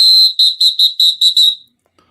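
A referee's whistle blown as a penalty call during a hockey discussion: one long shrill blast followed by six quick, evenly spaced short toots, loud and close, with nothing else heard.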